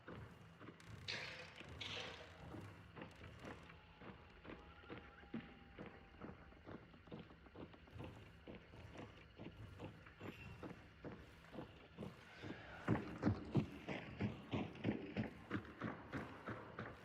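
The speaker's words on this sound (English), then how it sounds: "You hear footsteps over there." Dense, rhythmic footsteps in a video game thud close by in a steady walking cadence throughout, growing louder and heavier toward the end, with no talk over them.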